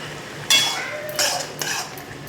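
Ground radhuni, fennel and turmeric being stirred in a cooking pot over medium-high heat, three distinct scraping strokes of a spoon against the metal pot over a faint sizzle, close and fairly loud.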